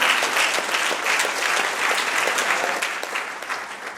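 An audience claps steadily in sustained applause, dense and even throughout, with no talking.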